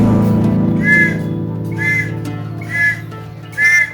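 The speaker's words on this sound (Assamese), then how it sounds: "স্কুল যাওঁতে হ'বলা হুইচেল বজাই যায়" Four short, shrill whistle blasts spaced about a second apart, sounding loud and close over a steady low hum.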